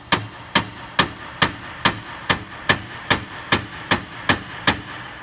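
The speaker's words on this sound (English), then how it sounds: "I'd use a chisel, punch, set it there" Steady hammer blows strike a chisel punch to tighten a part of a RICON wheelchair lift, about a dozen sharp, evenly spaced metallic taps ringing out close and alone.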